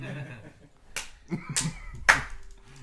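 Three slow, sharp hand claps spaced apart, fairly close, with faint voices murmuring in the background.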